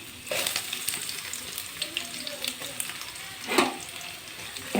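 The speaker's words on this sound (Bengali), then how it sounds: "এখন এটা আমি হালকা করে ভেজে নেব।" Chopped garlic, ginger and a medium onion fry in hot oil for street-style chowmein, a close, steady sizzle with occasional crackles and a brief louder burst as they are stirred.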